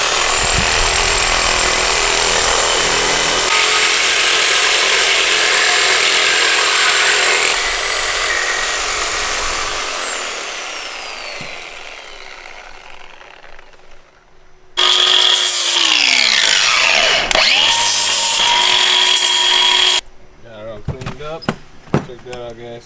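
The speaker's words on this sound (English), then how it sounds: "Who needs an expensive bandsaw when you got a cheap, shitty sawzall?" A cheap Sawzall reciprocating saw cuts through the metal of a car subframe, steady loud buzzing for several seconds with pitch shifts as the blade bites, then stops and restarts before trailing off into brief clatter.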